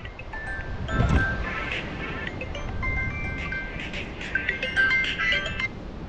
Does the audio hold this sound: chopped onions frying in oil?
no